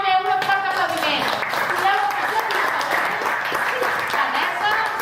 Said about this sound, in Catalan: Molt bé, un fort aplaudiment.